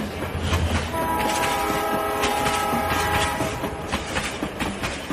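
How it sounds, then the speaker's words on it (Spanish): A train horn sound effect blares over a loud, dense cumbia mix at a dance event in San Francisco Tetlanohcan, Tlaxcala, with sustained horn tones and rhythmic clatter running continuously throughout. "escuchen cómo hace la bestia, el tren que trae centroamericanos a México"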